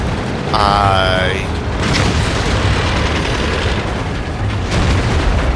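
A tank shell from World of Tanks strikes with a heavy boom, followed by a loud rumbling roar of engine and battle noise, with a brief rising tonal alert near the start.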